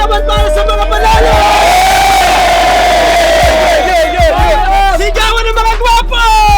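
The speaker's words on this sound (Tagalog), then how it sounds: "Sigawan para sa mga panalo!" At a street battle, a crowd shouts and cheers for the winners, a loud, continuous roar of massed voices with yells and whoops rising over the din.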